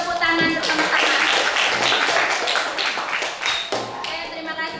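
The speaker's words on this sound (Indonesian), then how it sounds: "Beri kita untuk tepuk tangan bersama-sama" A classroom of children clap together after a pupil's presentation, a dense patter of hand claps running throughout, with a voice speaking briefly at the start.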